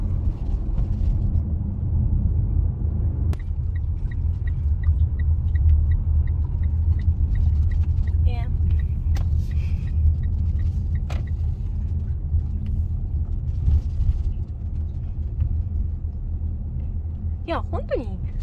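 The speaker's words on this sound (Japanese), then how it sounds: "いや本当に自動車がたくさんありますね。" Street traffic with many cars, a continuous low rumble of engines and tires with occasional closer passes, while people talk over it.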